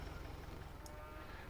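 Cattle mooing in the farm simulation game Farm Manager 2018 as a pair of cows is delivered, a steady low lowing that fills the moment with no talk over it.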